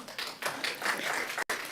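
Audience applause at a planning and zoning commission meeting, a dense patter of many hands clapping steadily from fairly close, broken by one very brief gap before resuming.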